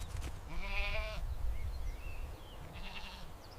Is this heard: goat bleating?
yes